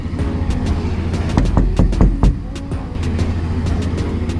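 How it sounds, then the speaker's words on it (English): A steady low engine drone runs throughout, with a burst of clattering knocks in the middle; it sounds like a generator humming nearby. "Somebody's running a generator to recharge batteries or something."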